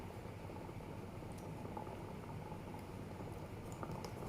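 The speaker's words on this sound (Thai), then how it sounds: "น้ำเริ่มเดือดแล้ว ร้อน" Broth boiling in a suki hot pot, a steady close bubbling simmer that runs unbroken throughout, with faint clinks over it and no speech.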